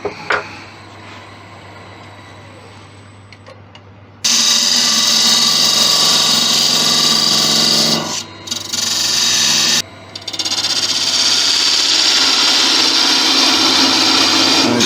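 A wood lathe spins a candlestick during sanding and finishing, starting as a low steady hum, then breaking into loud, harsh abrasive rasping in long sustained passes separated by two brief pauses.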